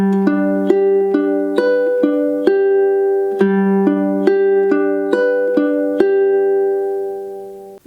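A ukulele fingerpicks a steady, evenly timed pattern through the chords, with bright plucked notes ringing clearly and close, with no voices.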